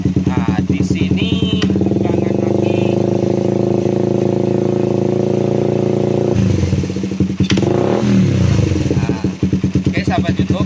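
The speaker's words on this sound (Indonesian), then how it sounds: "Kita hidupkan motornya." A Suzuki Satria FU motorcycle with a dim headlight runs close by at a steady, loud idle, then revs up briefly and settles back to a throbbing idle. A voice is faintly heard at times under the engine.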